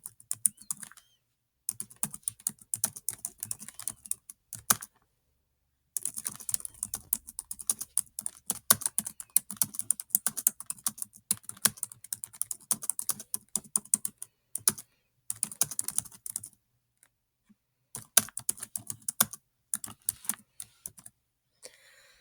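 Bursts of computer keyboard typing and clicking while editing an online store's text, close and fairly quiet, coming in uneven runs with several short silent gaps and no talking.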